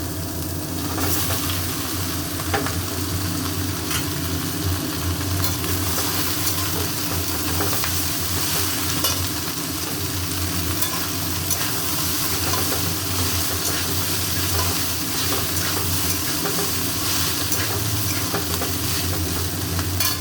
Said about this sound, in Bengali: ভালো করে ভেজে নেব একটু